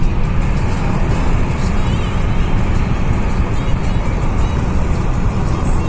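Steady road roar from a five-year-old Maruti Suzuki S-Cross cruising at 120 km/h on a highway, a continuous broadband rumble of engine, tyres and wind with no pauses.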